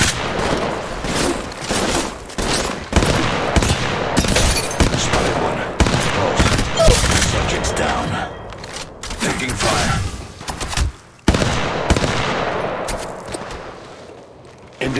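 Rapid gunfire from multiple squads in the mobile battle royale game Apex Legends Mobile, with dense overlapping bursts and loud shots running almost continuously, one brief gap near the end, under in-game voice callouts.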